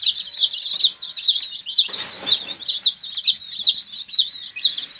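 Baby chicks from Murray McMurray Hatchery peep steadily inside their cardboard shipping box, part of a batch of fifty split into two compartments, with a brief rustle and scuffle of movement midway.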